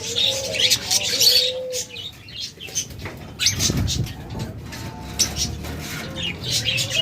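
Pet budgerigars in rainbow colouring, offered in pairs at a bird sale, chirp and twitter in quick bursts, with wing flutters and coo-like calls nearby and scattered soft background noise.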